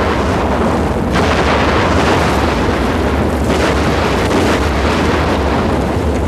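A dense, loud barrage of gunfire and explosive blasts from a Tremors 2 action movie trailer, with sustained booming roar and sharp bursts near 1 and 4 seconds.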